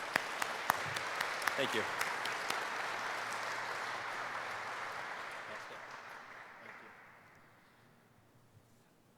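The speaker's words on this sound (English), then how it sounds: "let's give a big round of applause to the students and to your fellow students" An awards-ceremony audience applauds student competitors in an autonomous-vehicle challenge: broad, even clapping that holds for several seconds and then gradually fades out, with someone briefly speaking near the start.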